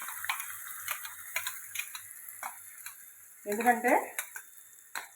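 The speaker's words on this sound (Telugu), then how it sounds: "ఇట్లాంటివన్నీ చేసేటప్పుడు నూనె అలా చిట్పట్లాడుతూ ఉంటుంది" Hot oil spluttering in a frying pan while cooking a sorrel-leaf and onion curry, with sharp scattered crackles and ticks, close by and fairly quiet, under a brief voice.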